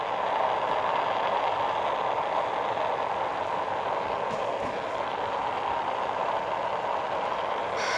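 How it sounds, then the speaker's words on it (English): Rocket engine roaring at liftoff in the Spaceflight Simulator game, a loud, steady broadband rumble with a hissing top that holds unbroken from start to finish, with no voices over it. "Ignition. Let's go guys, and we have liftoff."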